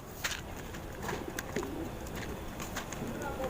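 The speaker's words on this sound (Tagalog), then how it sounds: "Yung mga ibon natin bali nagliliparan pa rin yung iba." Pigeons cooing, with a few soft bird calls over a steady hiss of outdoor background noise.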